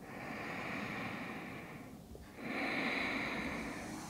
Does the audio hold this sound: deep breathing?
yes